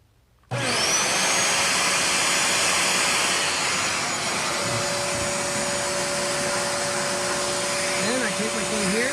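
Bissell 3624 Spot Clean Professional portable carpet cleaner switches on with a sudden start and then runs as a loud, steady motor whine and rush of air, continuous throughout, with a faint warbling tone later on.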